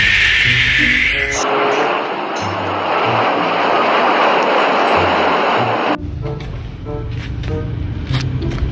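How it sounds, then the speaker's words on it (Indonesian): A Lion Air airplane taking off, heard as a loud, broad jet roar that swells and holds for several seconds before cutting off abruptly, with clicks and a child's toy sounds around it. "Wow, ini ada pesawat terbang Lion Air teman-teman."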